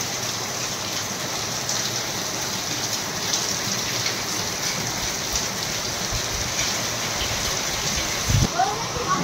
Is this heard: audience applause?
no